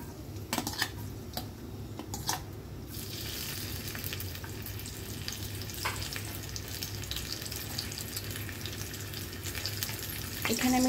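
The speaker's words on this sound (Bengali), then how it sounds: "প্রথমে দিয়ে দিব হচ্ছে রসুন কুচি" Chopped garlic fries in soybean oil with a constant soft sizzle, broken by a few sharp utensil clicks against the pan near the start and occasional light scrapes, no voices.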